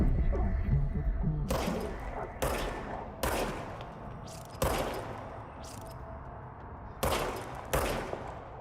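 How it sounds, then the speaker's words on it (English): Service weapon gunfire in the video game Control: about six loud separate shots or short bursts, each a sharp crack fading into a reverberant tail, spaced irregularly over several seconds. "Fire service weapon."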